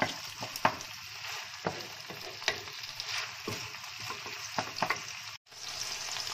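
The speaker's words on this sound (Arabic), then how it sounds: "بعد اللي تقلى لنا اللحم" Meat for a Moroccan and Algerian style tagine with prunes and apricots fries in a pan, sizzling steadily with crackles and occasional stirring clatters. A brief dip comes near the end.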